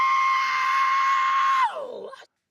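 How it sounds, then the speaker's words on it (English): A single excited human scream, loud and sustained at a steady high pitch for about a second and a half, then dropping off in a quick falling tail before cutting to silence. "That was an excited scream."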